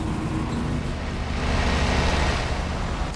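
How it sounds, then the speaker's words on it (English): A loud motorbike or car passes close outside on a neighborhood street, a broad rushing engine roar swelling over a few seconds and fading away. "They just have a motorbike or a loud car or something. They just go by every time."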